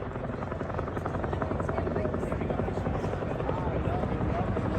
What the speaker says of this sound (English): Schmidt is going to pull power, and he's going to enter the Gorney corkscrew